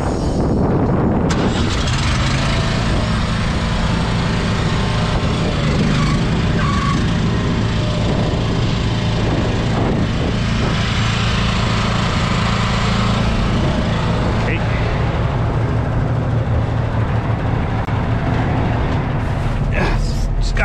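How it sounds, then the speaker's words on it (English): A truck engine on a trucking job catches and then runs loud and steady close by, a continuous rumbling drone that holds for the rest of the stretch, with a voice talking over it. "I'm gonna have to start the motor for that."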